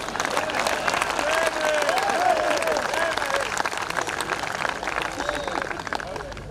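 Audience applause at a Hindi hasya kavi comedy poetry show in Bhilwara, a dense, steady wash of clapping throughout with crowd noise and faint voices mixed in.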